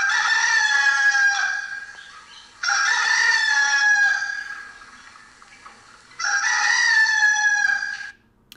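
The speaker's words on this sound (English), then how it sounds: "No rooster crowing yet." A rooster crowing alarm from a LabVIEW virtual kitchen timer plays three loud, close cock-a-doodle-doo calls in a row, each lasting about two seconds and separated by short gaps, with no talking.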